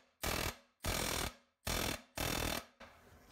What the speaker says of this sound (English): the best way to do it is old friend the air hammer